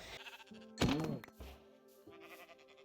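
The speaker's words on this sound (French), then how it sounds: "on va aller chercher des moutons" A sheep in Minecraft gives a single loud, wavering bleat amid soft game tones and clicks, short and close.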